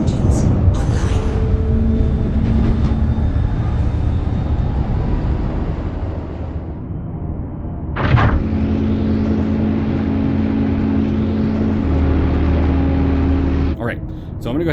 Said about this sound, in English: So let's go ahead and power this thing on